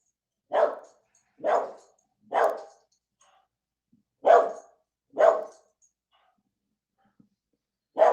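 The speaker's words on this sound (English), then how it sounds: "Bark if you want to be like that dog." A dog barks five times in separated single woofs, close and clear, with short silent gaps between them and no talk over the barking.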